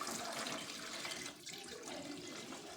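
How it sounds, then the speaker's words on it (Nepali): Water runs steadily from a tap, a faint continuous splashing hiss with no voices over it. "पानी"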